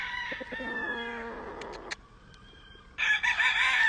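Roosters on a Louisiana farm crow in turn, one drawn-out cock-a-doodle-doo near the start followed by a louder, harsher crow toward the end, with brief clucks between.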